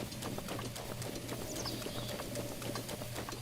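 Horse hooves clip-clop in a steady galloping rhythm in the video game The Legend of Zelda: Breath of the Wild, even and moderately quiet with a faint background hum.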